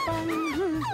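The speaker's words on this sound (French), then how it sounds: "Couchez! Ok, arrête! Bon chien! Méchant chien!" A cartoon dog whimpers in a high, wavering whine that bends up and down in pitch, close and clear with no talk over it.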